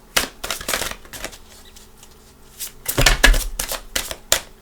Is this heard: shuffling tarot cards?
yes